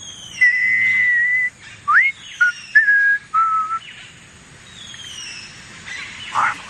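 A character whistles a short tune while sitting in a tree in a Star Trek holodeck scene, a few clear, sustained and rising notes in separate phrases over quiet outdoor ambience with faint birdsong.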